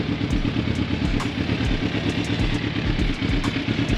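A Kawasaki Ninja 300 motorcycle engine runs at idle nearby, a steady loud pulsing throb with light mechanical clatter and occasional faint clicks.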